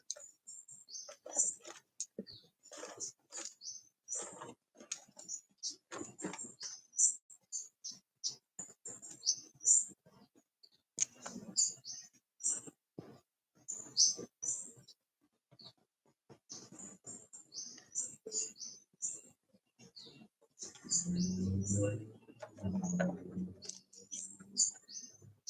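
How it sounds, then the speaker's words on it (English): Recorded birdsong playing from a video, a steady run of high chirps and tweets through most of the stretch, with brief low thumps and rustling near the end. "That's a YouTube video just with the bird sounds."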